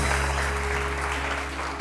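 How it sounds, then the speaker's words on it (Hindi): Studio audience applauding on a TV morning show, a steady wash of clapping that fills the whole short stretch at even loudness with a low hum underneath. "बहुत शानी के लिए बहुत सारी तालियाँ।"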